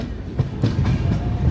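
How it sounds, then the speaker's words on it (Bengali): The Konark Express rolls along the rails in Odisha, heard from onboard as a loud steady rumble with rhythmic clickety-clack wheel beats over rail joints. "ট্রেনটি এবার খুর্দার দিকে অগ্রসর হচ্ছে ক্রমশ"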